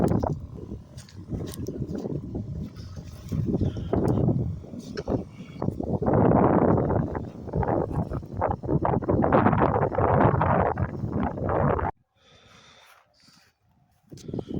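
Gusty wind in a spring orchard of pear and apple trees rumbles and buffets the microphone for most of the clip, loud and roughly continuous, then suddenly drops away to near quiet at the end.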